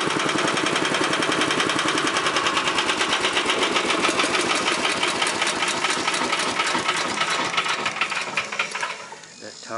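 A modified Honda engine on a trike runs steadily at close range, a loud, fast, even chugging that continues until it shuts off near the end.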